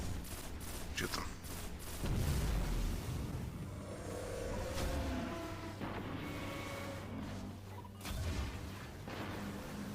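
Shooting at enemies in the video game Destiny The Taken King, a continuous fusillade with booming impacts and repeated shots over a low rumbling game backdrop.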